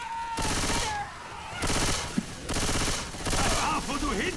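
Sustained automatic gunfire in the co-op video game Left 4 Dead 2 comes in several long, loud, rapid bursts separated by short pauses, with faint game sounds between volleys.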